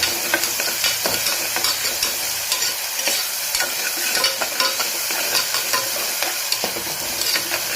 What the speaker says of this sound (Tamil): இஞ்சி பூண்டு பேஸ்ட்டு பச்சை வாசனை போகிற அளவுக்கு நல்லா வதக்கி விடுங்க